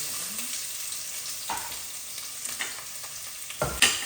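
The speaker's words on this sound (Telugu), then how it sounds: "నేను దీంట్లోకి ఆనియన్స్ కూడా వేసేసుకుంటున్నాను." Onions dropped into a pan of hot tempering and frying with a steady close sizzle, punctuated by a few stirring clatters and a louder splash of sizzle near the end, no talk.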